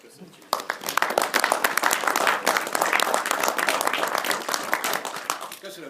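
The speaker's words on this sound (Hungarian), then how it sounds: "úgyhogy egy nagy tapsal köszönjük" A hall audience at a talk in Győr bursts into loud, sustained applause after a brief quiet start, with dense clapping continuing to the end and no talk over it.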